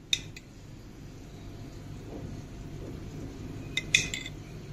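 A small spoon tapping and scraping against a mutton pot as ghee is added, with a few bright metallic clinks near the start and toward the end over a quiet background.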